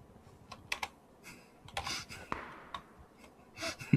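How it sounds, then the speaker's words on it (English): A computer mouse bangs against a keyboard during a PUBG game session, producing a scattered run of sharp plastic clicks and clacks that come close and fairly loud, with brief pauses between bursts. "I hit the keyboard with my mouse"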